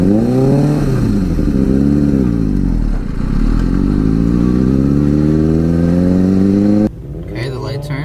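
A motorcycle ridden by a first-time beginner on a road revs and accelerates loudly, the engine pitch rising, dipping briefly, then climbing again before cutting off abruptly near the end, with faint talk underneath.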